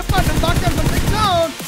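Gunfire in a mobile shooter game during a grand-final esports match comes as a rapid, dense burst of shots, loud and close, with excited voices and tonal game sounds layered over it.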